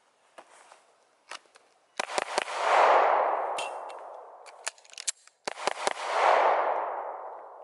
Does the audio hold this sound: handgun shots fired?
yes